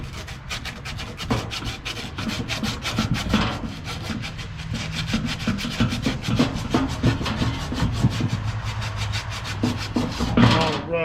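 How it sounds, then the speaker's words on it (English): Steady rough scrubbing and rasping as rust is cleaned off the shaft of an HVAC motor, a close, continuous back-and-forth abrasive sound with brief pauses, no talking. "We're going to go around here and we're going to clean this shaft real good."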